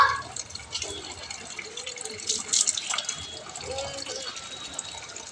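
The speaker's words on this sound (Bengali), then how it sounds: "আমি জলটা ভরে নিচ্ছি বালতিতে, এই যে জলটা ভরে নিচ্ছি।" Water runs from a tap into a bucket at an outdoor household tap, a steady splashing gush continuing underneath someone talking throughout, with faint background sounds of children playing.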